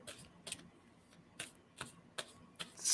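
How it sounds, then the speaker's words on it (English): Tarot cards being shuffled by hand, a series of soft, crisp riffling bursts at a steady uneven rhythm, close and quiet, with no talking. "Tell me when to stop shuffling."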